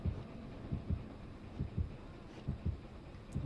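A faint Dead by Daylight heartbeat thumps low and soft in paired beats, repeating steadily beneath a quiet background hum.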